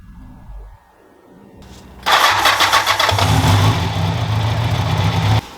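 A 1984 car with a 3.3-litre engine cranks and catches at about two seconds, then runs loud and close, with the revs rising in a steady roar before it settles back near the end.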